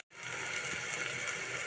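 Water pours into a pot of rice during cooking, a steady quiet gushing stream that starts abruptly and runs on briefly with no talking.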